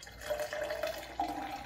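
A gut-health mocktail of mixed healthy ingredients is poured into a drink glass, giving a steady, close trickle of liquid with a brief surge partway through.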